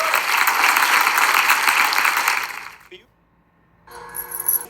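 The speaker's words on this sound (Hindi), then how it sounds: "पीयूष जोशी, एक बार उसके लिए तालियां।" A studio audience claps for Piyush Joshi at a comedy roast show, a dense loud burst that fades to near silence after a few seconds before a voice comes in.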